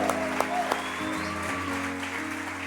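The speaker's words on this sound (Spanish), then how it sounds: "Eso merece un aplauso más fuerte a esos valientes." Church congregation breaking into applause, a dense, steady clapping that fills the room, with a few sharper claps and a voice faintly underneath.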